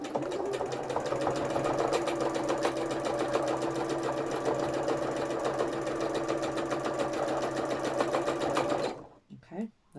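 A sewing machine runs free-motion embroidery stitches on hand-painted fabric, a fast, even, close mechanical whir of needle strokes that goes on for about nine seconds and then stops abruptly.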